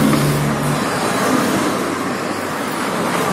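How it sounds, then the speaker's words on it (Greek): Cars driving by on a city street, a loud continuous rush of engines and tyres from several passing vehicles close by. "πλακώσανε αυτοκίνητα, τρία αυτοκίνητα, τέσσερα"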